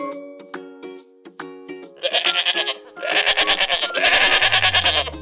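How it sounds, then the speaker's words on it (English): A goat bleats loudly in a series of wavering, pulsing calls, with a short rising bleat at the end, following a few bright chiming tones. "G is for goat."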